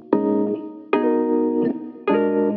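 A hip hop music sample is played through saturation and EQ plugins, giving a slightly grittier, brighter tone. Three chord stabs sound in quick succession, each held briefly.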